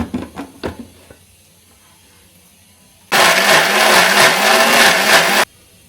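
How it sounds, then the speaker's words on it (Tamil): A mixer grinder grinds masala for mutton kulambu, running at a loud, steady whir for about two seconds after a few soft clinks and handling knocks. "இந்த மசாலாவையும் இதையும் சேர்த்து மிக்சியில் போட்டு நல்லா கிரைண்ட் பண்ணி எடுத்து வச்சுக்கலாம்"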